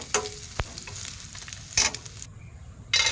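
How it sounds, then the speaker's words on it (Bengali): An egg fries in a pan with bursts of sizzling and a sharp utensil tap, the hiss swelling and fading in short uneven spurts between quieter moments. "এই তো ডিম ভাজা হয়ে গেল প্রায়।"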